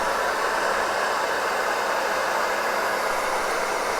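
A hair dryer blowing hair dry, holding a steady, loud, continuous airy whoosh throughout with no talking.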